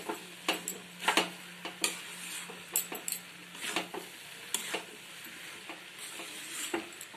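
Egg bhuna is stirred in a frying pan, a soft sizzle under a series of irregular spatula scrapes and taps against the pan, close and fairly quiet with no talking.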